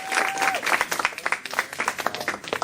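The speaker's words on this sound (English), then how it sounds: "she definitely deserves a round of applause" An audience at a student leadership conference gives a short round of applause for a new fellow, individual claps distinct and uneven, moderately close, with a brief tone near the start.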